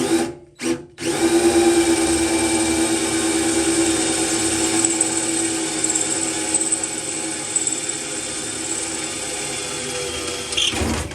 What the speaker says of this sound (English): I'm gonna just try and drill those out.